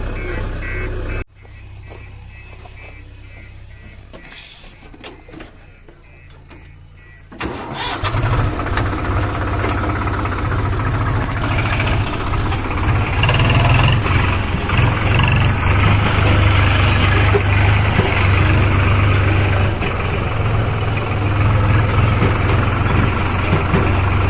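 A Swaraj tractor engine fires up after a quieter stretch and then runs at a steady, loud, rumbling idle with rising throttle, close by at a loading site where a JCB 3DX backhoe works.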